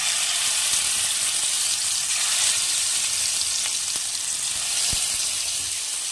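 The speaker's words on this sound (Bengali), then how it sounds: "এখন মাছগুলোকে ভালো করে ভেজে নেব লাল করে" Katla fish frying in hot oil gives a steady, close sizzling hiss that holds evenly throughout, with a few faint clicks from the pan and no voices.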